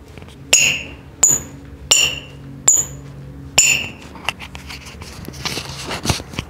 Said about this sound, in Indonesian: oke, sepatu ini bunyi ya, King.